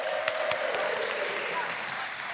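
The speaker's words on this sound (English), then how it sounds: "Give him a round of applause." Audience applause fills a hall after a children's group performs in a church-style gathering, a steady, dense wash of clapping that holds at an even level throughout, with faint voices mixed in.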